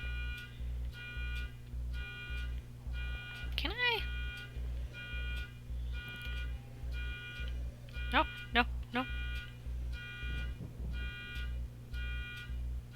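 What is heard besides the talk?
car alarm sounding outside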